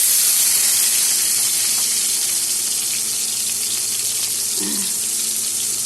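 Chopped onions with whole garam masala frying in hot oil for raw banana kofta, a steady, loud sizzling hiss that runs unbroken throughout, with a faint clink near the end.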